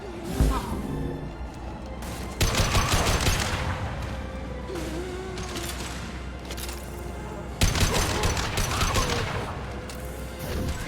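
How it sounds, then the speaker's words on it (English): Sci-fi weapons fire in the video game Mass Effect 2 comes in two sustained rattling volleys separated by quieter stretches. Voices speak over the fighting. "Watch where you're shooting!"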